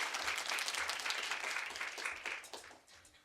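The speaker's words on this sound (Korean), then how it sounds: "다시 한번 박수 부탁드리겠습니다." Audience applause at a live event where a high school senior has just been introduced, a dense, loud burst of many hands clapping that gradually thins out near the end.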